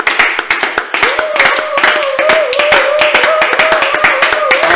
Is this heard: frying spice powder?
no